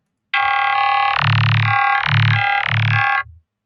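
Neuro dubstep bass made with the Harmor synth and run through a vocoder effect, a gritty distorted tone pulsing in three throbbing swells over a sustained low drone.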